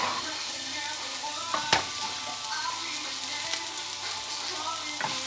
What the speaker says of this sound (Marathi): आनी मातशें गोल्डन फ्राय कर.